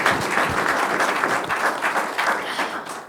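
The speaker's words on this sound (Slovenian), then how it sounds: "Tako da si zasluži aplavz." Audience applause at a round table discussion on recognising and developing talent in higher vocational education, a steady, dense wash of clapping from a sizeable crowd, even and sustained without speech.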